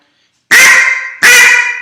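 Two loud, sharp quacks from a duck call imitating a fine hen, the call of a young one-to-two-year-old duck, each blast ringing out close and alone with a brief gap between them.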